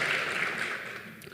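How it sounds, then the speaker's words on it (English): Audience applause at an awards ceremony, a steady wash of clapping from a crowd that holds briefly and then thins slightly toward the end, with no talking over it. "you may applaud yourselves"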